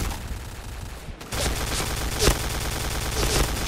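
Rapid PB MK.46 machine gun fire from the Point Blank video game rattles in a dense, continuous burst, loud and steady, with game effects layered underneath.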